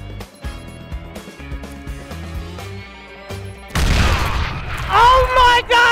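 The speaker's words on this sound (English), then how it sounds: "Oh my God, I dropped on a landmine" A landmine goes off in the video game Metro Exodus, Sam's Story DLC: layered game music and tones, then a sudden loud blast near the four-second mark that breaks into a dense, crackling roar and keeps rumbling to the end.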